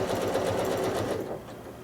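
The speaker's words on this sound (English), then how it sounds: "I'm going to stitch down into this corner, so that way I'm working off the narrow space." A sewing machine runs steadily at close range while free-motion quilting circles into a spinning square quilt block, a continuous busy whir that eases slightly toward the end.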